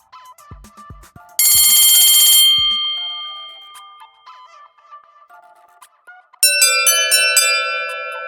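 A cartoon school bell rings in two loud bursts, a sustained electric ring followed later by a brighter tonal ringing, with soft clicks and quiet tones between them and no talking.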